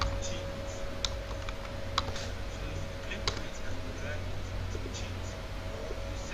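Keys clack on a computer keyboard while text is entered for a flyer design in Photoshop: sparse, irregular clicks sit over a steady electrical hum and low room noise.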